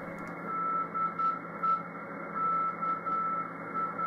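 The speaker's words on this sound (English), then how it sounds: "a good place to check for band openings is the CW Beacon portion of 10 meters" A faint CW beacon tone on the 10 meter amateur band carries a steady whistle through a wash of radio receiver hiss, with no one talking.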